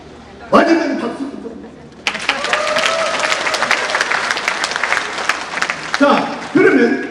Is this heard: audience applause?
yes